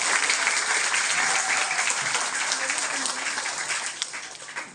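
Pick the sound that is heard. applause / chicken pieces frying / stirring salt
applause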